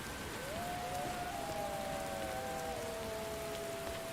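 Rain falling in the video game Skyrim: Wildlander, a constant close hiss of rainfall that fills the scene, with faint tonal game music drifting underneath.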